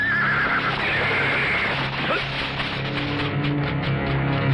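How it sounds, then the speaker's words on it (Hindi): A horse whinnies loudly in a dramatic Hindi action film scene while hooves clatter beneath, set against a dense, continuous backdrop of film sound and music. "अब तो घोड़े की टापा से मरेगा"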